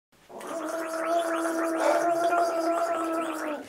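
A child with a sore throat gargles, a steady wet bubbling rattle that starts abruptly and holds continuously for about three seconds, close and clear, with no talking.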